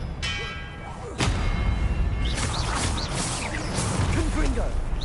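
An Expelliarmus disarming spell cast in Hogwarts Legacy lands as a sharp thud with a whooshing crash, followed by magical combat clatter. Character voices murmur underneath.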